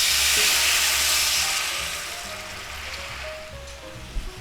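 Steak juices saved from sous vide cooking sizzle and bubble as they reduce in a pan for au jus, a steady close hiss that softens slightly, with a single clink near the end.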